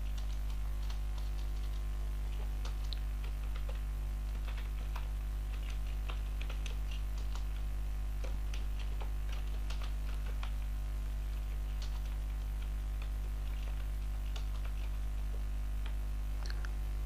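Rapid, irregular keystrokes on a computer keyboard, typing Urdu text, scattered clicks over a steady electrical hum, close and fairly quiet, no talk.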